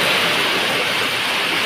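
Steady drizzling rain falling outside near a temple, a dense even hiss of drops continuous and fairly loud throughout, with no voices.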